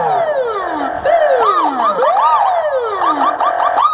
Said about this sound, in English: This is a Russian ambulance.